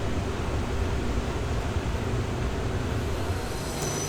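A train rumbles past at Cajon Pass in a steady, dense roar of wheel and track noise, continuous and fairly loud throughout.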